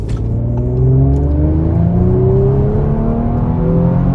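A 2019 Audi RS5 Sportback engine revs hard under acceleration, loud and close, its pitch climbing steadily through the gears in a continuous, throaty roar with no talk over it.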